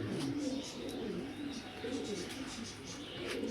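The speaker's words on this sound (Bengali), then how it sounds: "সুপার কোয়ালিটি কবুতর, ব্যালেন্সগুলো যেমনি মতো দেখে যাবেন" Racing pigeons coo softly in a loft, a low, repeated murmuring that stays faint and steady with a few small chirps mixed in.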